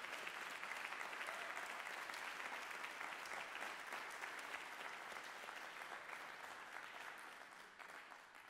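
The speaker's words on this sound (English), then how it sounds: "Give them another round of applause, please." Sustained audience applause for the performers at a spoken word and poetry night, steady dense clapping throughout that tapers slightly toward the end.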